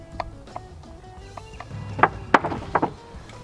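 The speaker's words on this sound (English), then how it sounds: "I'm gonna put these in with an actual screwdriver just so I can be easy about it" A manual screwdriver drives screws into wood for a bike wash station, with a few sharp creaks and clicks clustered near the end over quiet background.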